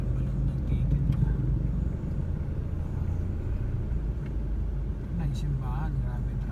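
Festival-day road traffic crawling through Santa Cruz during a town fiesta, a steady low rumble of car engines close by with occasional voices and horns under it.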